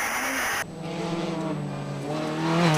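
Ford Fiesta R2 rally car on a gravel rally stage, its engine droning steadily and loudly close by, pitch rising gradually as it accelerates, after a brief burst of wind-like noise at the start.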